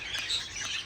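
Pet finches in a bird room chirp in quick, high, overlapping tweets that sound close, with a soft hiss of room noise behind them.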